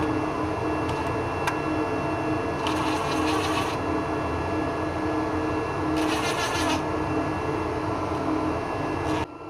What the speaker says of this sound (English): Alright, let's get some clamps on here.